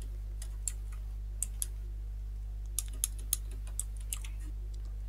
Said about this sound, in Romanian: cum mi se aude tastatura la Andrei pe fundal